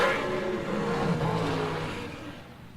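Dragsters at the Southern Big Buck Nationals drag race, a yellow car chasing a dark black one down the strip, give a loud continuous engine roar and whine that holds steady, then slowly fades near the end.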